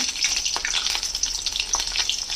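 Black cumin and two slit green chillies hit about two and a half tablespoons of hot mustard oil, setting off a close, continuous crackling sizzle scattered with small pops.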